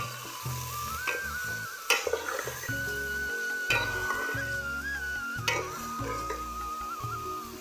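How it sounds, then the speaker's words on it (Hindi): Onions frying in a pan give a close, even sizzle broken by scraping and knocks of a stirring utensil, while a thin steady whistle-like tone runs through the whole stretch. "प्याज भी मैंने इसमें डाल दिए।"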